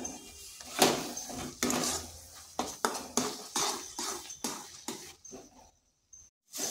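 A spoon scrapes and clinks against a bowl in a steady rhythm of soft strokes while an amla candy mixture is stirred and combined, the taps close and fairly quiet, ending in a brief pause.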